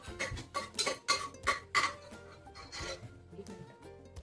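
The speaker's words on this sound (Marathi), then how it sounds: "एवढं तेल घेतलंय मी आणि हे मसाले असे परतून घ्यायचे थोडे" Whole spices for mutton curry are sautéed in oil in a pan, heard as a series of dry, rhythmic scraping strokes, close and fairly quiet, with no talking.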